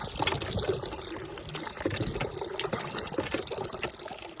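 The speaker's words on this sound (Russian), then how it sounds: "Вот так качаю воду." Water is hand-pumped into a bucket on a farm, a steady splashing gush filling the pail with rhythmic surges from each pump stroke, close by and fairly quiet.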